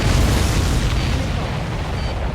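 Missile explosions in the jet combat video game Ace Combat 7, flying an SU-33, form a continuous loud, rumbling roar of blasts and booms with no pause.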